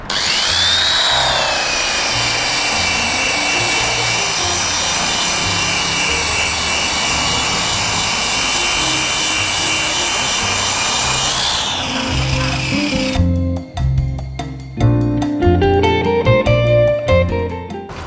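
Power polisher working the headlight lens of a fourth-generation Honda CR-V, a loud steady whine with rising and falling pitch that winds down near the end, followed by a short burst of background music.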